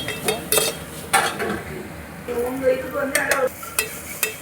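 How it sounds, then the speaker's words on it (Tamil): Ginger and garlic being sautéed in a pan for vada curry, with a close, continuous sizzle broken by several loud spatula scrapes and clanks against the pan over a few seconds. "இப்போ இஞ்சி பூண்டு போட்டு நல்லா வதக்கியாச்சு"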